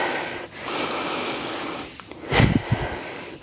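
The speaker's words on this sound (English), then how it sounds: "Couple more breaths" Heavy breathing during a push-up workout: hard snorting breaths and wheezy exhales, close and fairly loud, with the strongest gusts near the end.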